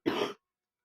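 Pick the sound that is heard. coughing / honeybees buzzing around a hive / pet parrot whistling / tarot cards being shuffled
coughing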